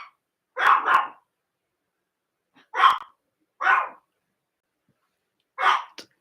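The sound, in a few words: dog barking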